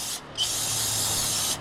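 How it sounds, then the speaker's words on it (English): Carburetor or brake cleaner sprays down a walker mower's hydro drive in two long, loud, steady hissing bursts separated by a short pause, close to the nozzle with no talking. "take your carburetor cleaner or brake clean, whatever you got, spray that sucker down"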